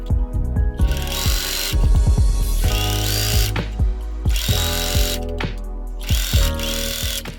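A sewing machine set to stitch length 4 stitches in rapid bursts, its needle clattering rhythmically with short pauses between runs, loud and close.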